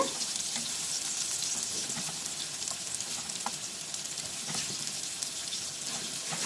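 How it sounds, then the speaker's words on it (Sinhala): Eggplant (brinjal) pieces frying in oil, a steady bright sizzle with soft crackles and faint stirring, close and even throughout, with no voices. "දැන් අපේ වම්බටු ටික බැදිලා ඇති"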